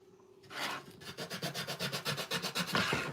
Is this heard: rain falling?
no